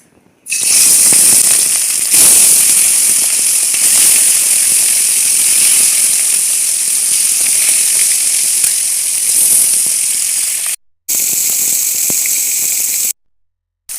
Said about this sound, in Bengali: তেল গরম হয়ে গেছে, আমি এখন দিয়ে দেবো মাছ।